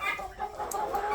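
Hens cluck continuously inside a backyard chicken coop, several birds calling over one another at close range with a rooster-like edge to some calls, and no talking.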